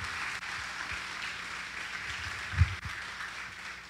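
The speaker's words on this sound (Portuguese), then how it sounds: "Você pode aplaudir o Senhor por esse texto tão especial." A church congregation at a worship service applauds, a steady wash of many hands clapping that holds at moderate volume throughout.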